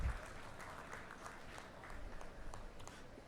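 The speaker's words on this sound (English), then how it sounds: "A big round of applause, please." Faint, distant applause rolls on steadily through a university convocation ceremony at GSFC University, with occasional sharper claps standing out from the soft, continuous patter.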